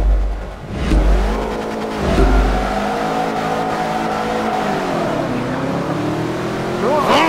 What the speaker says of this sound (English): Look at these cars.